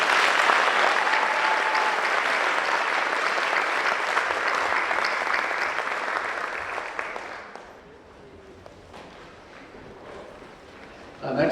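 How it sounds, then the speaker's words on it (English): An audience at a high school senior awards night applauds honored seniors, a loud, sustained round of clapping that dies away after several seconds, leaving a quiet room with faint voices. "Let's give them a round of applause"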